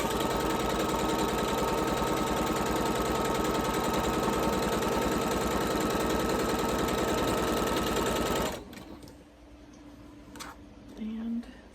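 A sewing machine stitches quilt pieces for a Shoofly Star quilt, a loud steady rapid whirring run for about eight seconds before it stops, followed by quieter faint handling sounds.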